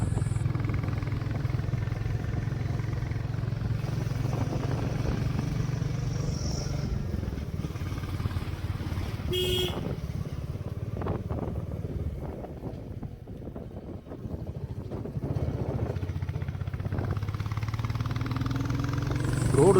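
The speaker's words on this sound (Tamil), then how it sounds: "சாரி நாய்ஸு ரொம்ப அதிகமாக இருக்கும். நான் பைக்கில் ட்ராவல் பண்ணிகிட்டே பேசிகிட்டு இருக்கிறதால" A motorcycle engine drones steadily while riding up a hill road, with constant low engine hum and wind buffeting on the microphone throughout.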